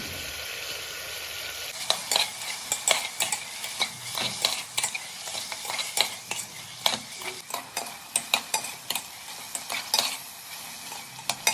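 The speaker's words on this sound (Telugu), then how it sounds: "బాగా కలుపుకొని 1 టేబుల్ స్పూన్ అల్లం వెల్లుల్లి పేస్ట్ తీసుకొని కలుపుకోవాలండి" Onion, tomato and ginger garlic paste stirred in a sizzling pan for mutton curry, a steady run of spoon scrapes and clicks over the frying hiss, close and fairly loud, with no talking.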